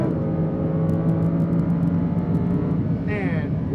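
A Lamborghini Huracan accelerating at full power on a track, a steady loud engine roar with whirring that holds throughout, a brief higher tonal sweep near the end.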